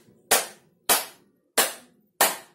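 Four sharp hand claps in an even, unhurried rhythm, played as body percussion, each a crisp close burst that decays quickly into near silence.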